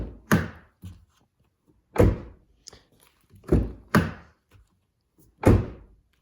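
A series of heavy, solid thuds, about six in all, spaced irregularly as the door of a Subaru STI fitted with Kilmat sound deadening is shut again and again, each one deep and dull.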